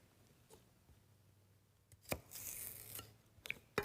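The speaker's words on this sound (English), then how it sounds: "Just chopping up some celery" Knife chopping celery on a cutting board, a few scattered sharp taps at first and then a denser burst of quick cuts, close and fairly quiet.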